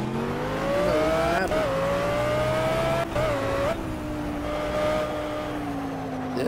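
Racing game engine audio from a GT3 car in Project Cars on Xbox One as it spins out, a steady loud engine drone with pitch wavering and dipping through the spin, no talking.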